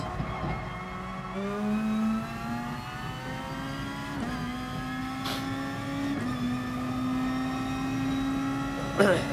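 Honda NSX race car in Gran Turismo Sport, its engine note climbing through several gears in a steady rising whine with brief drops at each shift, loud and continuous with a voice talking over it.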